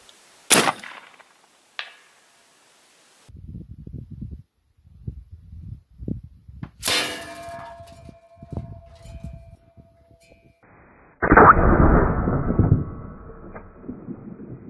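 AirForce Texan .457 air rifle firing at long range, a sharp close report, then after a long pause a faint distant metallic ring from a steel ringer target, with bursts of louder rustling and handling noise.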